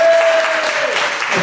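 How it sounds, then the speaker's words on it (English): Loud applause from an audience fills the whole moment, steady and dense clapping with a faint whistle-like tone fading early on. "Give this man a round of applause"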